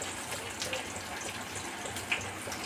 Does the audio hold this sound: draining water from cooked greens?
yes